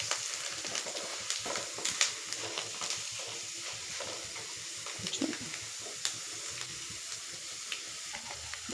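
Mustard seeds, cumin, chana dal and urad dal tempering in hot oil on low flame for poha upma, giving a steady soft sizzle with scattered small crackles and pops throughout, no talk.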